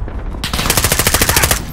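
A steady, close, loud burst of rapid automatic gunfire in a military shooter video game, starting abruptly and running as even rhythmic shots with no talk over it.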